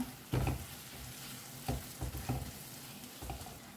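Smashed rajma beans frying with masala in a pan, a soft steady sizzle broken by several scraping stirs of a spoon, quiet and close with no talking.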